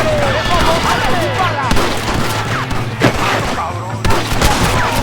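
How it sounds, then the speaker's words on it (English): Dense gunfire rattles nonstop through a firefight in Red Dead Redemption, with overlapping shots and heavier booms over a low droning bed, and shouting voices mixed in throughout. "Shoot them, Joe!"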